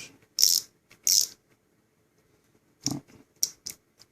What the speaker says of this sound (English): ratcheting screwdriver, as you can see, made by Cobalt here